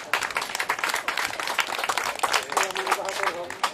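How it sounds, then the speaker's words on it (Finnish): Applause from a crowd at a firewood-stacking contest at an outdoor market in Asikkala, Finland, dense and steady clapping throughout, with talking mixed in. "se ansaitsee kyllä raikuvat aplodit"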